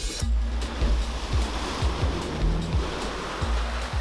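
A 4x4 ute, on a wet, slippery track after rain, ploughs through a deep water-filled log hole, with sustained loud sloshing and surging water over a low engine drone.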